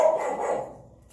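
A single short dog bark sounds nearby and fades quickly into quiet.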